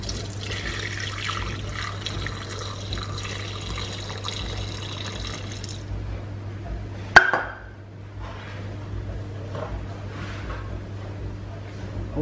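About 250 ml of warm milk pours into a mixer bowl in a steady liquid trickle lasting several seconds, followed by a sharp clatter and quieter handling sounds over a low hum.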